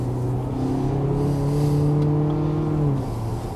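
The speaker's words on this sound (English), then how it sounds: "Oh, that really does rev up those RPMs." An Acura's 4-cylinder car engine revs up, its pitch rising and holding in a sustained whine before dropping off, close and fairly loud.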